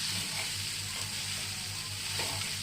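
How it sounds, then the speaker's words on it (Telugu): Ivy gourd frying in a hot pan, Andhra style with coconut, gives a continuous close hiss and sizzle with soft stirring, heard alone without talk. "దొండకాయ ఫ్రై అవుతుంది చూడండి"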